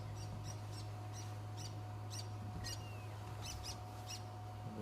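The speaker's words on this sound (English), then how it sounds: "The sound of a brown-hooded kingfisher in the background." A brown-hooded kingfisher calls from the background on a morning safari drive, giving several short, sharp repeated notes at spaced intervals, fairly faint over a steady engine-like hum and ambient outdoor noise.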